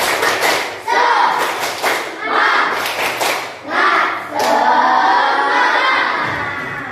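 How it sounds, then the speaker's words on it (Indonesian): A classroom of pupils performs a spirit clap, a loud, near group of rhythmic claps in bursts with shouted voices, rising crowd noise and thumps across the whole stretch. "Nah, tepuk semangat"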